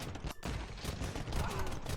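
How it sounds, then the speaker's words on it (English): Bombard cannon fire in the real-time strategy game Age of Empires II, a dense stretch of battle booms and impacts layered with clashing sounds over a busy mix, with faint commentary in the background. "Oh, the bombard cannon though."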